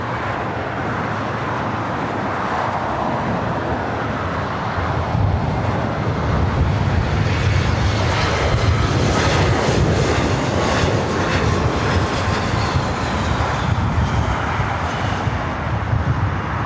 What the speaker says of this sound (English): Next arrival here on the north side is Delta Connection SkyWest Flight 3914 coming up from San Jose, California